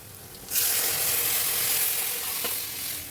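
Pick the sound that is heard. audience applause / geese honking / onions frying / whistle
onions frying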